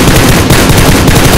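Sustained automatic gunfire in the video game PUBG Lite, a dense, loud, continuous burst of rapid shots filling the whole stretch with no talking.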